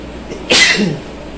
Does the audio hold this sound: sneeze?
yes